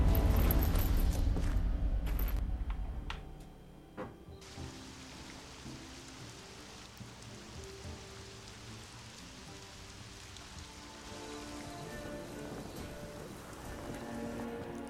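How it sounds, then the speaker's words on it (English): Steady rain in The Witcher 3: Wild Hunt, a soft continuous hiss of falling drops at moderate volume, with louder game sounds at the start before settling into a constant wash. "we're all wet because it's raining outside"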